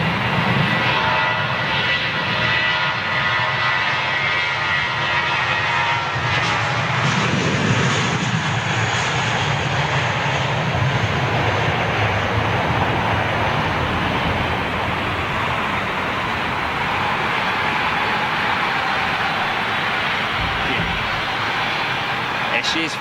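An Eva Air Boeing 777 airliner rolling down the runway at Heathrow Airport, a powerful sustained engine roar and rumble heard from a distance, steady throughout with a person talking over it at times.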